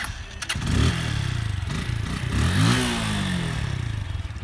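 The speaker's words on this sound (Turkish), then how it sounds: "Motoru bir çalıştıralım." An RKS RN180 motorcycle cranks and fires up, a couple of rising engine bursts catching into a steady, rough, close idle with some mechanical clatter.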